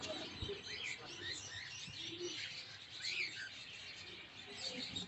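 Cockatiels chirp and tweet in a busy bird market in Kataban, Dhaka, a steady overlapping chatter of many birds at mid distance with constant crowd bustle beneath.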